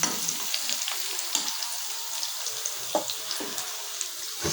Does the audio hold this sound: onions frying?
yes